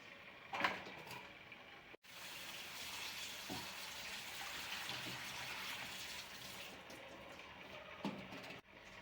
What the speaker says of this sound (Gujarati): વેફરને 2-3 પાણીએ ધોઈ નાખીશું।